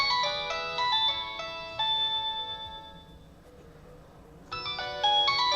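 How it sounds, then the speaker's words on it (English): A phone line on a setup comparing an AVR171 with an Xbox 360 gives a series of electronic tones, stepping through several pitches, pausing briefly, then resuming loud and close with no talking. "Got a dialing tone on here."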